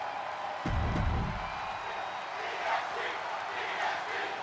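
Arena crowd in the WWE 2K23 wrestling video game backing Bianca Belair against Natalya, a steady roar of cheering with a louder low burst early on, continuous throughout.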